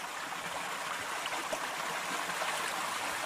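A stream flowing past a paper mill at the bottom of a valley, a steady broadband rush of running water with faint trickles and gurgles, continuous and moderately distant, with no voices.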